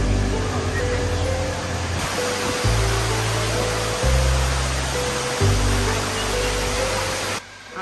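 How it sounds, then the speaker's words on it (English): Steady roaring rush of a waterfall inside a misty indoor cloud forest conservatory in Singapore, loud and continuous, with low droning hum layered beneath. "That's a waterfall."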